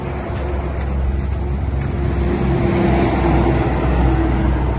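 A truck engine roars with deep exhaust rumble, a dense, steady low drone that swells slightly toward the end, loud and close, with no talking over it.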